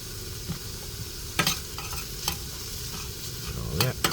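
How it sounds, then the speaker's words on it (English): Chopped green onion sizzles in a hot frying pan while a utensil stirs and scrapes through it, a steady close crackle broken by sharper scraping knocks. "Now we're going to add in my onion. Green onion."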